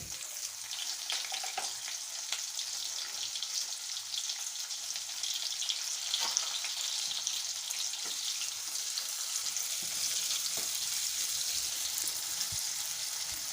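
Finely chopped onion frying in hot oil in a pan, a steady bright sizzle throughout with occasional stirring clicks and scrapes, close and continuous with no talking.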